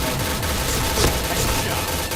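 Dense, rapid gunfire from the online shooter game Point Blank, a continuous loud fusillade filling the whole moment without pause.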